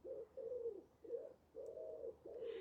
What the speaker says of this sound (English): It's a wood pigeon.